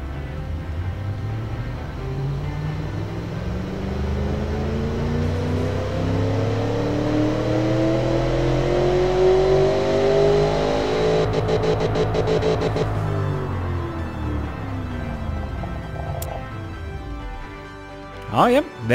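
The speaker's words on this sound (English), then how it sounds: "As expected from a big 5-liter pushrod engine, V8 pushrod engine" Simulated 5-liter V8 pushrod engine in an engine simulator, revving up in one long sweeping climb and then falling back down, loud and close with a rough buzzing tone, followed by a brief pause and a couple of short bursts at the end.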